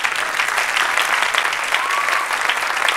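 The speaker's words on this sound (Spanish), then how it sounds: "Why don't you clap? ¿Por qué no le aplauden?" An audience at a church healing and deliverance service claps steadily, a dense, continuous wash of applause filling the room without any break.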